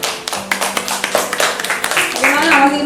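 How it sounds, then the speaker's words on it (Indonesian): An audience claps in quick, steady bursts for a group of judges at an Indonesian community gathering, with voices audible over the clapping. "Tepuk tangan untuk kelompok hakim"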